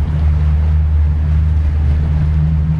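A MacGregor 26 trailer sailer motor sailing on Mark Twain Lake under outboard power, a steady close low engine drone with water and wind wash running unbroken throughout.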